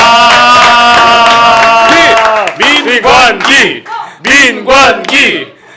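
A live studio audience welcomes a serving police inspector from Cheongju Heungdeok Police Station with a loud burst of crowd noise and clapping that swells after a sustained musical fanfare, then pulses in several waves.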